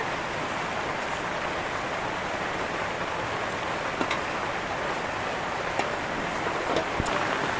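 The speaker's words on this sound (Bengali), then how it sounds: "দেখুন কি বৃষ্টি, অনেক বৃষ্টি হচ্ছে" Heavy rain falls steadily on a village home, a dense even hiss with a few sharper drops striking nearby surfaces and no talking.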